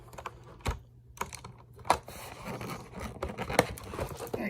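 A Melgeek Pixel mechanical keyboard with a Lego-style customisable build is lifted out of its box, giving a quick scatter of close clicks, taps and packaging rustles.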